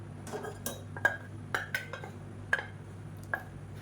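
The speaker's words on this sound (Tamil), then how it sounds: "சேர்த்துட்டு லேசாக மிக்ஸ் பண்ணி விட்டுக்கலாம்" A spoon stirs cooked mung dal into a pot of simmering liquid for Ganesh Chaturthi milk kozhukattai, with a few sharp clinks of metal on the pot's rim spaced through a quiet, steady background hum.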